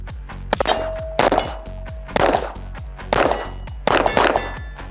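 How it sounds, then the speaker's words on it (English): Five sharp pistol shots from a ported 2011-style Cardinal Arms G2P, each followed by a bright metallic ring from a steel target behind cardboard, fired at a steady outdoor-range pace with a lingering ding after the louder hits. "I shot the cardboard and the steel behind it rang."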